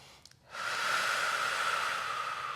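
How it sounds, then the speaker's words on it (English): A single long, steady breath, breathy and fairly close, during a rest-day stretching and muscle-recovery routine on the floor. It follows a brief quiet pause, with no talking over it. "Breathing deeply in through the nose and out through the mouth."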